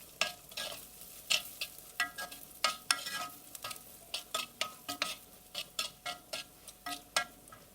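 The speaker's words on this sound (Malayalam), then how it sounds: "ഇവിടെ ഇഞ്ചിയും വെളുത്തുള്ളിയും കുറച്ച് സമയം ഒന്ന് വഴറ്റിയതിന് ശേഷം ഇതിലേക്ക് പച്ചമുളകും ഉണക്കമുളകും ആഡ് ചെയ്ത് കൊടുക്കാം" Ginger, garlic and green and dried chillies sautéing in a pan, a soft sizzle under regular, evenly spaced scraping strokes of a spoon, close and fairly quiet, about two strokes per second.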